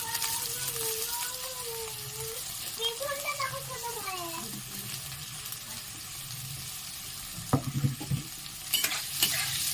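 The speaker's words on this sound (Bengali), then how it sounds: "এগুলো আমি খুব ভালো করে ভেজে নেব।" Carrots, green chilli, tomato and onion sizzle in a pan, a steady frying hiss with stirring scrapes, while a voice talks over the first half and a few clatters come near the end.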